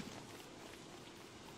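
Rain falls in the video game Don't Starve Together, a faint, steady hiss of drops pattering on the ground with no talk over it.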